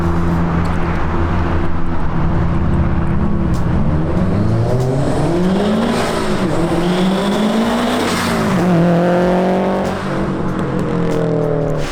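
A Subaru STI with a Hawk Eye front end pulls hard through the gears, its loud engine note climbing in pitch, briefly dropping at shifts, then rising again across twelve continuous seconds with no talking.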